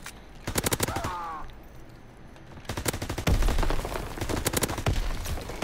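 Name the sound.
shotgun gunfire in a video game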